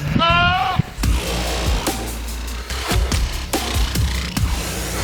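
A goat gives one short, loud bleat at the very start, followed by noisy, rumbling background sound with a few faint thumps.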